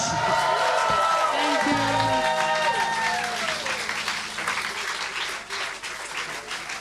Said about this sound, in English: Big round of applause for Vishwaas!